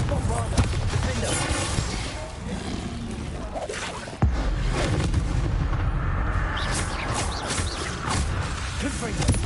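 Spell explosions from the Hogwarts Legacy video game, repeated booming blasts and crackling impacts layered over dense game combat noise, with one sharp loud burst midway and continuous rumbling throughout.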